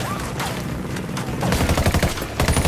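Bursts of automatic gunfire and rapid shots ring out during a jungle firefight in the video game Ghost Recon Wildlands, growing denser and louder in the second half as a voice calls out briefly.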